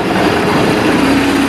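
Boat stern drive engine idling at around 600 to 650 RPM, a loud, steady, close rumbling drone with no clear break or gear clunk, no talk.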